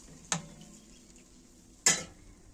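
Fish curry is stirred briefly after water goes into the pot: two sharp metallic knocks of a spoon against the pan, about a second and a half apart, over a quiet low simmer.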